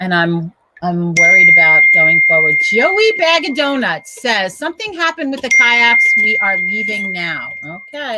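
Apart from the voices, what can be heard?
phone ringing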